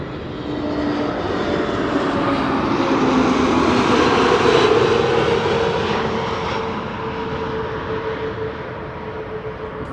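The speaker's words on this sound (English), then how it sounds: "EasyJet is the first airplane to arrive. Arriving from Liverpool, it's an A320neo." An EasyJet Airbus A320neo arriving at Amsterdam Schiphol, a jet roar that swells to a peak mid-way as it passes and then slowly fades, with a thin tonal whine over the rumble and no talk.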